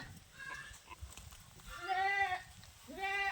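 A goat bleats during birth on a farm, giving two or three loud, wavering cries close by over a constant low background hum, with no talk.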